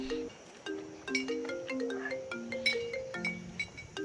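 A mobile phone ringtone plays indoors, a bright looping melody of stepped tones that keeps ringing steadily for several seconds at moderate loudness.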